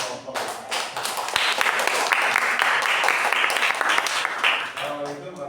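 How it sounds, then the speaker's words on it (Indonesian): A classroom group gives applause to a presenting student group, a burst of close, loud clapping from a small crowd that swells quickly, holds for several seconds, then tapers off with voices around it. "tepuk tangan untuk kelompok."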